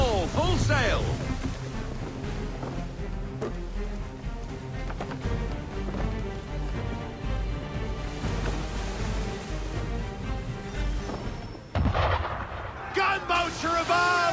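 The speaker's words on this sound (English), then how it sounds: "Gunboats are above! Why is he shooting at us?" Heavy cannon fire from gunboats in Assassin's Creed III, a dense rumbling barrage of booms over a ship at sea, continuous and loud, with shouted voices and game music mixed in.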